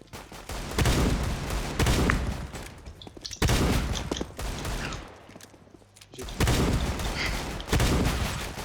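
Dense bursts of gunfire from a shooting video game pound in loud, sustained volleys separated by brief lulls, with rapid overlapping shots close up.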